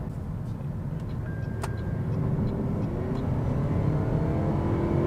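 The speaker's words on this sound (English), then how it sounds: "Priuses have always been kind of grumbly and they sound like they're straining when you're under hard acceleration" A 2026 Toyota Prius hybrid accelerating hard, its engine a steady low grumbling drone that swells slightly as speed builds, heard from inside the car with no talk.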